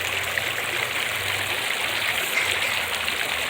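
Water pours steadily from a fountain in a continuous, even splashing rush, close and unbroken, with no voices.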